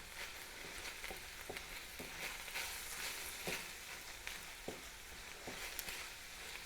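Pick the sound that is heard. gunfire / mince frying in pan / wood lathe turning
mince frying in pan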